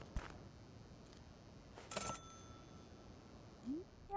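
A telephone rings in the video game Celeste: a couple of short electronic ring bursts over a quiet background, with a small rising blip near the end.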